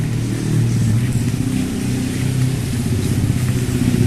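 Car engine droning and accelerating on a long straight road, a steady loud low rumble that holds for several seconds with no voices.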